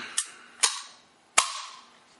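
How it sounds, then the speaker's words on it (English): An SKS rifle trigger assembly is fitted into the stock during reassembly. Three sharp, close metallic snaps come in uneven succession, each with a brief ring, with no talk. "I hold this first part, and then you just hear that click, it snaps into place."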